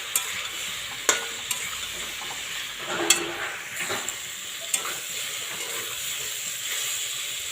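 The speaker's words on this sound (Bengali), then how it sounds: "আমি এবার একটু আমগুলো ভাজবো" Khaja mango pieces fry with salt and turmeric in a pan, giving a steady sizzle and hiss broken by several sharp scrapes and clinks as they are stirred, with no talking.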